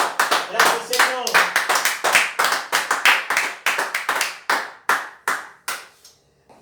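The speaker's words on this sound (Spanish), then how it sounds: "Fuerte el aplauso al Todopoderoso." Church congregation clapping for the Almighty in rhythmic, loud, close unison beats, about two claps per second, tapering off near the end, with voices faintly audible underneath.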